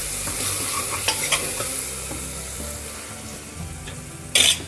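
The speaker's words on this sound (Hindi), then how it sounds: "थोड़ा सा इसमें हम गरम मसाला ऐड करेंगे। और इसे भी अच्छे से एक बार चला देंगे हम।" A spoon stirs vegetable biryani masala with garam masala in a pressure cooker, giving a continuous close sizzle with repeated scraping strokes and a sharp metallic clink near the end.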